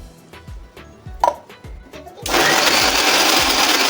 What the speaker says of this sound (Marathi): कांदा, खोबरं, लसूण आणि अद्रकची पेस्ट करून घ्यायची आहे आपल्याला.